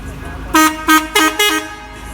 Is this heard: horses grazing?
no